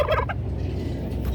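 A turkey gobbles loudly and close in a mixed poultry flock of ducks, geese, guineas and chickens, with a rapid rattling burst followed by a second shorter gobble.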